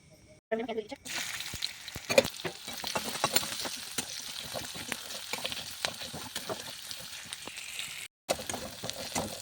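Oil heats in a wok for cooking Maggi noodles, giving a steady sizzle with crackling pops and occasional stirring scrapes nearby, broken by a brief pause near the end.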